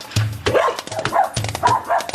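A dog barks outdoors in several sharp, loud bursts spaced about a second apart, close by and with no talking over it.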